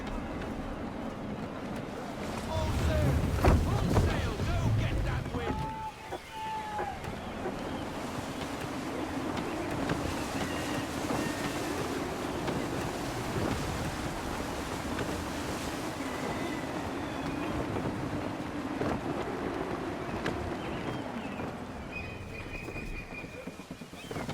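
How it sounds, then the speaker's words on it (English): Gusty wind and rolling sea waves around a sailing ship in the video game Assassin's Creed III, a steady broad wash of wind and water with a brief louder surge early on and some faint game tones. "Gusty winds can be difficult to manage"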